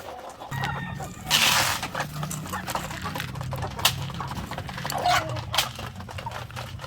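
Heritage chickens and oriental fowls on a poultry farm, clucking and calling steadily close by, with a few sharper squawks and bursts of activity over a constant low murmur of the flock.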